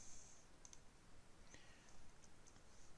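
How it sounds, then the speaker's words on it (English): Light, faint clicks of keys being tapped on a computer keyboard, a few scattered strokes in a quiet room against steady background hiss. "I need to type in"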